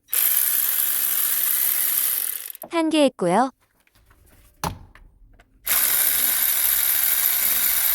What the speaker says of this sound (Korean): 전동 라쳇으로 하나씩 풀어볼게요.